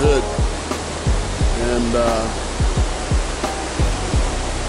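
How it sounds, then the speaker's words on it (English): The Zigzag River flowing down off Mount Hood in Oregon forest, a steady loud rushing of water that fills the scene, with someone talking over it. "The river behind us is the Zigzag River."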